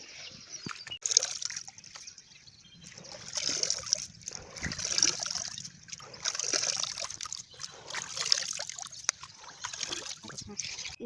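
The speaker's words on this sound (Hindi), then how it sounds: "इसे इस तरीके से हम धुल दिए हैं और इसका पानी निकल जाएगा।" Wheat grain being washed in a tub of water gives soft, steady trickling and sloshing with small splashes throughout, moderately close and fairly quiet.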